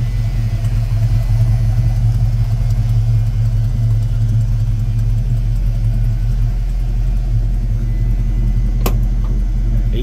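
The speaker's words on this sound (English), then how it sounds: "You can hear the slight rumble here in the back of the exhaust." A 1979 Ford Thunderbird with a 4-barrel carburetor idles with a low, steady exhaust rumble heard close at the rear. The level stays even throughout, with a small sharp click near the end.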